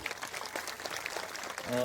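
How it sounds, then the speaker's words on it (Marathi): Audience clapping to welcome Swamiji at a Hindu devotional gathering, a steady scattered patter of hands lasting throughout, fairly distant, with a faint sustained tone near the end. "सगळ्यांनी त्यांचं टाळी वाजवून एकदा स्वागत करा."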